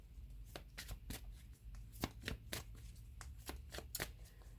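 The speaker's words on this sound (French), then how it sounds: "Alors, on va prendre une autre carte ici." Tarot cards being shuffled by hand, a run of crisp riffling flicks and snaps repeating at an uneven pace, close and fairly quiet, with no talking.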